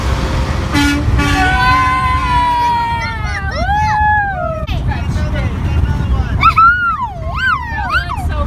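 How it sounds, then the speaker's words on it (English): A semi truck air horn blares on a road, several long, loud sustained blasts that bend and waver in pitch, with voices and traffic noise around them. "Honk it now, Elijah."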